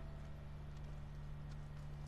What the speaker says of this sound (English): Sorry for stealing your horse.